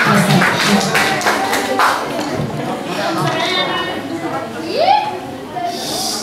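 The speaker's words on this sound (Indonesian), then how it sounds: "tepuk tangan yang meriah" An audience at a preachers' competition claps after a speech, with several seconds of brisk applause followed by room noise and a short rising tone near the end, under talking.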